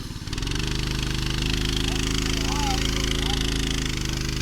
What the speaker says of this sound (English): Just give it a rev, Dad.